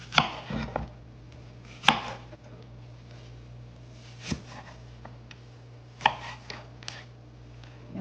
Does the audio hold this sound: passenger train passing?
no